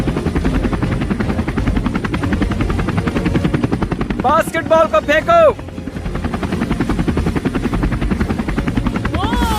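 A helicopter's rotor thrums loudly and steadily throughout, with a short burst of shouted speech over it near the middle.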